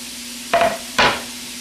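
Two quick scraping stirs of onions, ham and garlic frying in a pan, each a short clatter over a steady low sizzle, close by with no talk.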